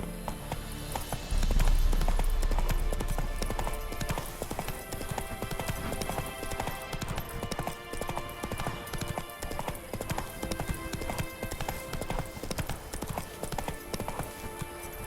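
Galloping hooves of Roach, the horse in The Witcher 3, a loud rapid clip-clop rhythm running the whole time over game music and ambience, with a heavier thud near the start.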